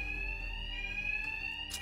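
In a bank level of Batman Arkham Knight, a loud electronic alarm rings continuously with a steady high pitched tone and harmonics, unbroken and close, with no talking.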